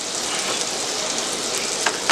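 Pork chops searing in a hot pan, giving off a steady, close, dense sizzle with a few sharper pops near the end and no talking.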